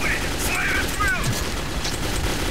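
Gunfire in the video game Metro 2033: a busy, noisy burst of shots and mechanical clatter runs through the whole stretch at a steady, fairly loud level, mixed with game ambience.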